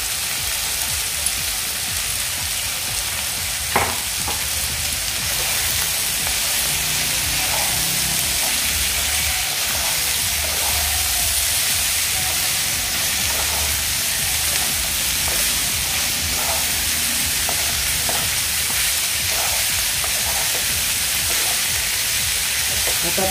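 Finely chopped half-head of cabbage sizzles and fries steadily in a pan while being stir-mixed, with faint scraping and occasional clinks over the continuous hiss of moderate-level frying.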